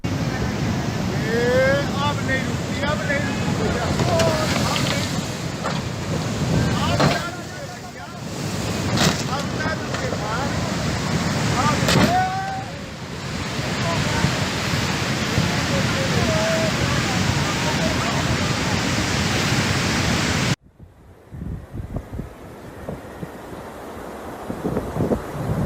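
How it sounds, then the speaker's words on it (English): Rough floodwaters roar and churn around a stuck bus as they carry it away, loud and continuous with wind buffeting. Excited voices talk and exclaim over the rushing water before an abrupt cut to quieter sound. "the floodwaters took it away"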